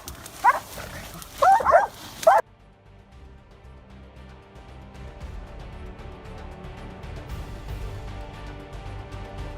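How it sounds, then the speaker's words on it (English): Hunting dog barking in a snowy hunt, a few loud close barks in quick bursts at the start, then cut to a quieter rumbling background without barking. "the yellow hare hunting dog rushed, barking, eyes glowed in the icy breath"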